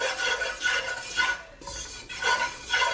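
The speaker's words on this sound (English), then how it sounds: "So just let's mix it up nicely in here." A spoon stirs macaroni and cheese sauce in a pot over low heat, giving close scraping and swishing strokes in a steady back-and-forth rhythm, with no talking.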